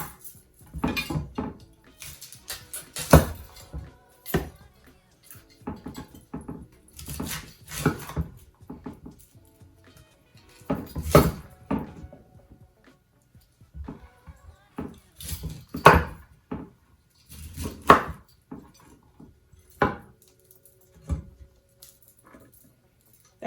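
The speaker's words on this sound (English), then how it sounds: "you're just going to simply cube your cauliflower into chunks" A knife cubes cauliflower into chunks on a board for soup, giving a run of sharp, close chops and taps in irregular bursts with short pauses between, and no talking.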